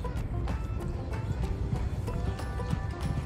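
Steady clip-clop of horses trotting close by, the repeated hoofbeats blending with a constant low rumble and occasional faint snorting, with no clear speech.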